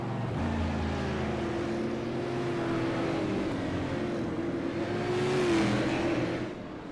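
Super late model race cars roar around the Southern National Motorsports Park oval, a steady droning engine note that rises and falls slightly as the pack passes, loud and continuous without voices.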